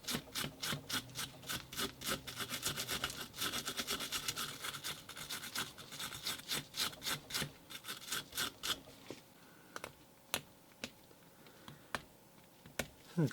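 A copper pipe being cleaned of burrs, with fast rhythmic scraping strokes close up that slow to sparse, isolated scrapes toward the end.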